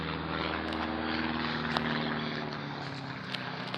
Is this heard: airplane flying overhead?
yes